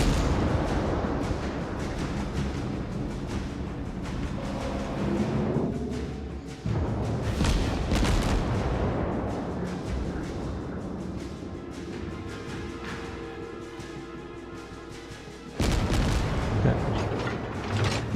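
Battleship main gun salvos in a naval warfare video game, played as the Kongo: loud booming blasts with long rumbling decay, a few heavy shots spaced several seconds apart over continuous low engine and sea drone.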